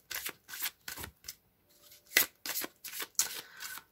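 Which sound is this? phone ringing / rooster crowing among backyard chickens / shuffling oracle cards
shuffling oracle cards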